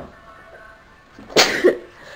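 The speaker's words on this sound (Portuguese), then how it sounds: "Ai, gente, só tô espirrando." A single sharp sneeze bursts out close to the microphone inside a simple home, loud against a quiet room, with a brief second catch right after it.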